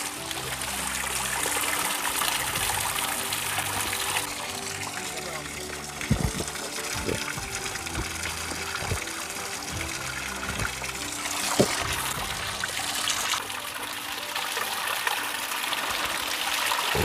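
Water gushes steadily into an empty bottle outdoors, making a continuous rushing hiss with a few knocks, while people talk over it.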